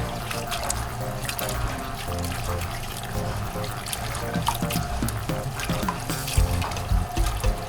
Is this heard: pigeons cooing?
no